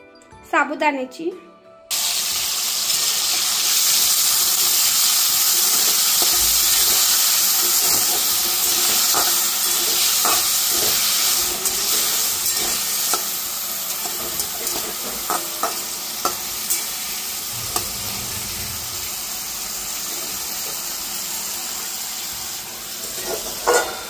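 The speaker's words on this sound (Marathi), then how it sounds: "कमी गॅसवरती ना तेल टाकलं, त्याला बटाटे टाकले, मीठ टाकले" Potatoes sizzle in hot oil over low heat with a loud, steady hiss that runs on, broken by occasional stirring clicks; a brief voice comes just before it starts.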